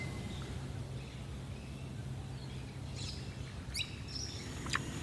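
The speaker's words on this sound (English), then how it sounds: "The birds have just started going, which are magpies and currawongs, I think." Magpies and currawongs call at dawn on Lake Macquarie, a few faint, distant chirps and warbles over a low steady background hum, sparse at first and clustering toward the end.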